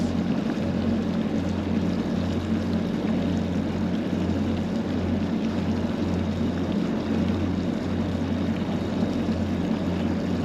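A boat engine holds a steady drone near 2,500 RPM while lateral thrusters push the hull around, a constant low hum with wind buffeting and no talk.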